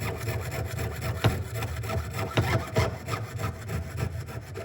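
A hand saw cuts through a wooden breadboard in a series of rough, rhythmic strokes, close by, with a few sharper knocks mixed in and no talking.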